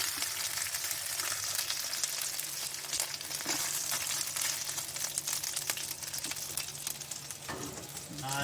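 Onions sautéing in a pan, a steady, dense sizzle and crackle that stays loud and unbroken throughout, with occasional stirring scrapes mixed in close by.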